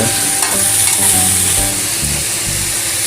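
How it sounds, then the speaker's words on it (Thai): Pumpkin stir-fried with pork in a pan, a loud steady sizzle with bursts of tossing and scraping as the ingredients are mixed, close and continuous without speech. "แล้วก็ตามด้วยฟักทองนะครับ ผัดให้เข้ากันนะครับกับหมู"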